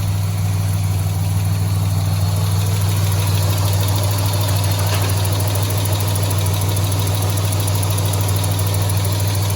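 A Ford EF Falcon engine runs steadily after an oil change, a constant close idle drone with a low hum and faint ticking, no voices.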